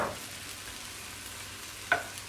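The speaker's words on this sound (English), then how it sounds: "all we're doing is tossing this sausage, garlic, and onions together" Sausage, garlic and onions sizzle in a pan with a soft, steady crackle, and a sharp clink of a utensil on the pan comes near the end.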